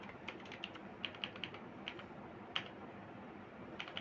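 A computer keyboard clicks in irregular light taps, with small bursts of keystrokes spread over a quiet room background and no talking.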